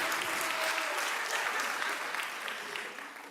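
An audience applauds poet Avery R. Young at a Chicago poet laureate celebration, a dense, steady roar of many hands clapping at close range that holds strong before tapering slightly toward the end.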